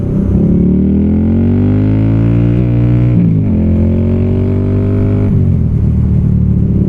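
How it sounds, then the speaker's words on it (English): A loud Indian Scout Bobber motorcycle exhaust revs up and down close by, the engine note climbing, dipping and rising again in a continuous roar. "can't really hear myself think over those exhausts"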